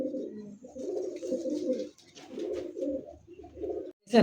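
A caged pigeon coos in low, throaty phrases close by, several rolling bursts separated by short pauses, with a brief rustle at the end.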